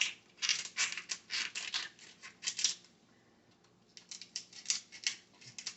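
Kitchen scissors cutting through a cooked lobster shell: a rapid series of crisp, close snips and crunches in two bursts separated by a short quiet gap, with no voices.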